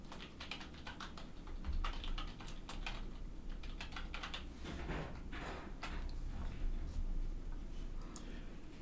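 Python code being typed on a computer keyboard: a steady run of fast, close key clicks with a few louder strokes, continuing over a constant low background hum.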